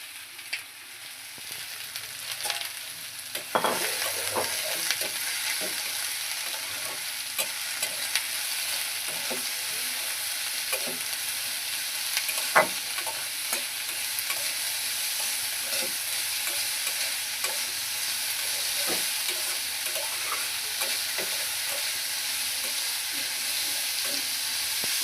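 Chopped onion, garlic and green chili frying in hot oil, a steady dense sizzle that continues throughout, with occasional soft stirring scrapes and pops, close and with no talk.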